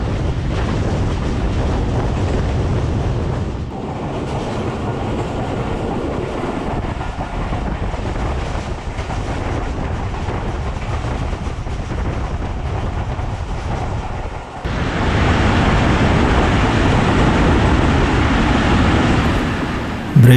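Mehar Express passenger train rolling on the line with steady rumbling wheel and carriage noise as brakes are applied approaching Sher Shah junction, then a louder surge of rushing noise near the end; no talking.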